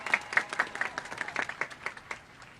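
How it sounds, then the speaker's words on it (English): Graduates and audience applauding at a high school graduation ceremony: a moderate round of clapping with distinct individual claps, fairly soft and somewhat distant, thinning slightly toward the end. "Please give yourselves a round of applause."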